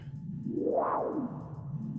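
A Eurorack modular synthesizer tone blended with white noise and drenched in reverb swells upward to a bright peak, then falls back into a long, washy tail over a steady bed of hiss.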